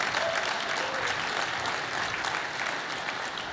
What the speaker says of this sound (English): Now, go ahead, you can clap.